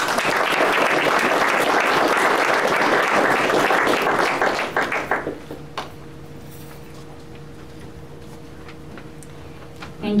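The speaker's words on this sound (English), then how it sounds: "Please join me in a round of applause for yourself" A crowd at a donor wall dedication ceremony claps in a loud, dense round of applause that tapers off after about five seconds, leaving a quiet room with a faint hum and a few scattered sounds.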